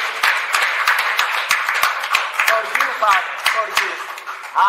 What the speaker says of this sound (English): Let's give Jesus a big hand clap.